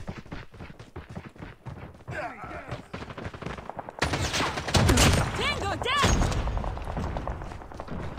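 Gunfire in COD Mobile during close-range clan war play: scattered shots at first, then loud, rapid automatic bursts in the second half, with someone talking over the action.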